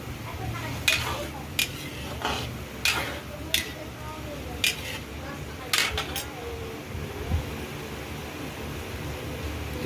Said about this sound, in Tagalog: dahil kumukulo na siya, pwede ko na siyang haluin.